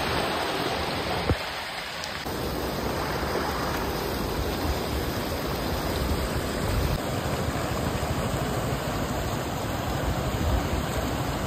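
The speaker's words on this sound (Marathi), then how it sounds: "मस्त पैकी फॉल आहे" A waterfall and stream rush steadily and close by, a dense broadband roar of flowing water that holds constant throughout with no speech over it.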